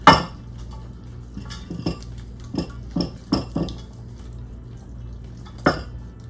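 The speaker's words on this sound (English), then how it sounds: "We're going to put everything into the casserole dish" Food for a Southwest chicken casserole is spooned into a prepared casserole dish, giving a scattered series of clinks, taps and scrapes of utensil against dish, close by with quiet pauses between.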